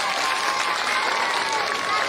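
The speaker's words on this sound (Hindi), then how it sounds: "तो बच्चों के लिए सब लोग तालियां बजाइए।" A crowd claps steadily and loudly for a couple of seconds, a dense wash of applause with no pauses.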